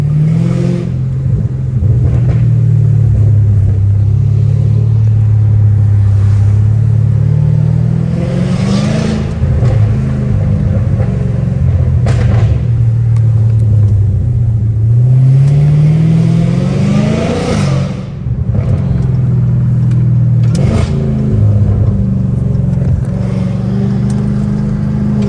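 A Dodge Hellcat Redeye is driven between close walls, and its supercharger whines loudly over the engine. The whine rises and falls repeatedly as the car revs up and lifts off, sustained and close, with no talking.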